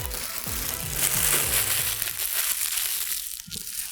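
Gift wrapping paper being torn and crumpled close by, loud crackling and crinkling bursts that fade toward the end, with no talking.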